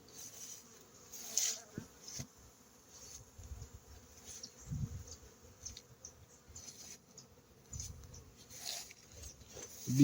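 Bees buzz softly nearby, their hum rising and fading as individual insects drift closer and away, with no talking.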